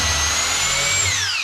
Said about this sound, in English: drill the pocket hole